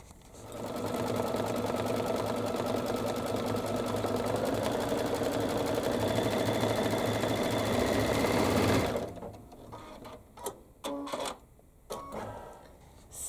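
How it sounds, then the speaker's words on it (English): An embroidery machine stitches a decorative stitch on a reverse appliqué notebook cover, a loud, fast, steady mechanical chatter for about nine seconds before it stops, leaving scattered clicks and handling noise. "So I'm going to go ahead and switch my color and stitch that out."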